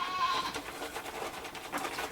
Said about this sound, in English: I've got one other goat.